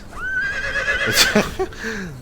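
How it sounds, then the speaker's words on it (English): A horse in the video game Conan Exiles lets out a single loud, close whinny that rises and then trembles down, ending with a short snort. "I'm using it to do very simple things like a stable for these horses."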